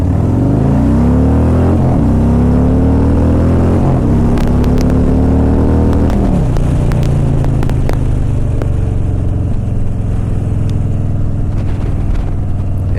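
A motorcycle with a 114 engine pulls away and accelerates to about 10 mph, a deep loud rumble climbing through gear-shift sweeps, then settling into a steady low idle-like throb with occasional clicks and knocks.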